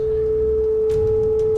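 A synthesized sine wave tone holds at one steady pitch for about a second and a half, clean and constant, with faint soft clicks and low rumble underneath.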